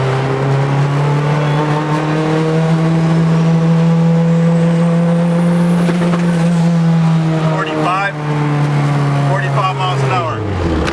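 A K24-swapped Toyota MR2 with a dog-box gearbox accelerates hard in second gear, its engine drone loud, close and steadily climbing before easing off near the end, with faint talk underneath.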